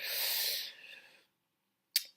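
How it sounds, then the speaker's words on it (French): A long, breathy nasal blow tapers off into silence, then one short sharp sniff or snort at the end. "on se nettoie bien le nez, et puis on mouche"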